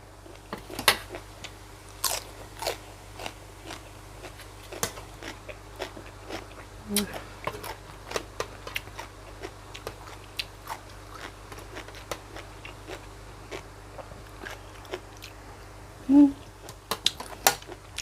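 An Isan-style pounded squid salad is eaten close to the mic, giving repeated crisp bites and crunchy chewing clicks scattered across the whole stretch, fairly faint, with a brief murmur near the end.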